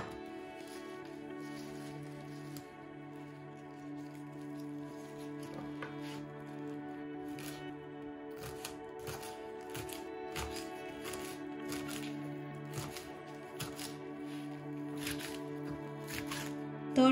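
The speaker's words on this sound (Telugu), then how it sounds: "ఇప్పుడు దీన్ని సన్నగా ముక్కలు కోసుకుందాం" Fresh amaranth leaves (thotakura) are cut finely with a kitchen knife, producing a run of quick, fairly soft taps that grow denser in the second half of the clip over a steady humming background.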